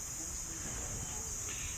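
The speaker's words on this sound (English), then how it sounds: "we've got cicadas in the background" Cicadas drone in a steady, high-pitched buzz outdoors among trees on a blustery day, with low wind rumble underneath; the insect hum stays constant throughout, fairly distant.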